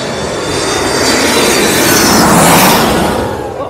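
A low-flying Air France airliner passing overhead on its landing approach at St Maarten beach, a loud, close, broadband jet roar that builds to a peak and then begins to fade, with no talk over it.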